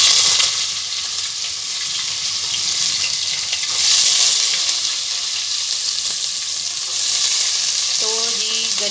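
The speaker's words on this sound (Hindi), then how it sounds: "अब इसमें हम डालते हैं जी प्याज।" Chopped onion sizzles and fries steadily in hot oil with turmeric and red chili powder while preparing okra chicken curry, a continuous close crackle with brief stirring clatter near the end and no talking.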